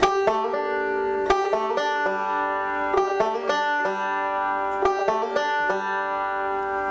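Bright plucked string notes ring out one after another in a steady, rolling picking pattern, starting from an open third string picked with the index finger, close and clear, with no voices.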